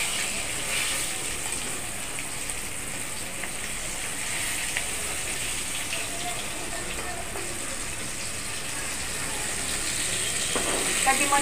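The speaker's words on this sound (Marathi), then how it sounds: "हे बघा आपण मच्छी पण ठेवलेली आहे फ्राय करायला" Steady, dense sizzle of fish with masala frying in hot oil, a continuous crackling hiss throughout at even loudness, with no talk.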